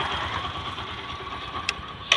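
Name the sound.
Bajaj Discover 100 motorcycle engine idling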